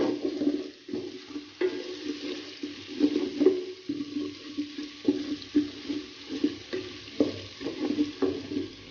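Ginger and garlic paste being stirred in a frying pan for dry beef curry, a rhythmic scraping and sizzling of a spoon against the pan in short repeated strokes, close and fairly loud with no talk.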